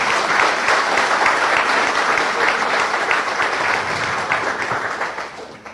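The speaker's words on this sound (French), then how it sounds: "je pense qu'on peut déjà les applaudir pour ça" Crowd applause at an elegance show held at a manor in Caudry, loud and sustained clapping from many people that stays full throughout before tapering slightly at the end.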